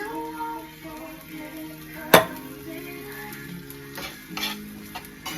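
French-style green beans cooking in a pan, a steady close sizzle with occasional stirring scrapes and one sharp clack from a utensil.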